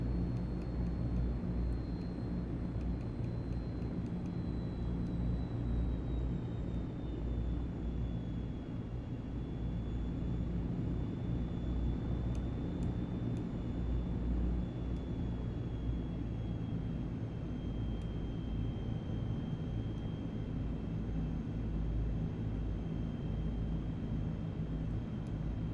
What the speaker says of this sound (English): I'm going to land off the runway again, just so we can get that nice